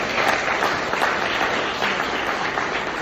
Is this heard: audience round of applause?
yes